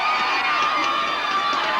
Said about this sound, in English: And a roar from the crowd.